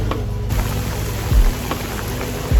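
Rain falling on a rainy day, a steady hiss of drops with a few heavier thumps, heard without talk.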